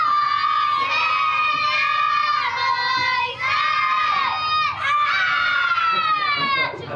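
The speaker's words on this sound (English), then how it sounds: "nobody can scream louder than the Carolina Chazan" A group of kindergarten children scream and cheer together in a loud, sustained chorus of high shouts, rising and falling in waves with brief dips between bursts.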